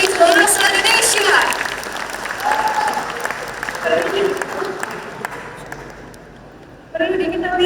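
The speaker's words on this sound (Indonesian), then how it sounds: "Sekali lagi berikan tepuk tangan yang paling meriah untuk teman-teman HMTS Tadi Bahasa Indonesia." Audience applause fills a theater after a student performance of an academic drama production, a dense wash of clapping that fades toward the end before a voice speaks into a microphone.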